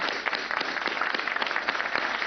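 Audience applause during a televised exam-advice event with film actors, a dense steady wash of clapping across the whole clip at moderate level, with no talk.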